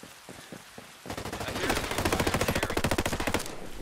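Rapid bursts of assault-rifle gunfire in the video game Ghost Recon Breakpoint rattle in a steady, fast rhythm after a few scattered shots, loud and continuous.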